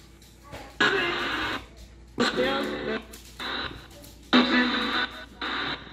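Choppy bursts of radio static and fragmented voice snippets from a spirit box sweep with reverb sweep in and out, each lasting about a second, with a washed, reverberant tail between them.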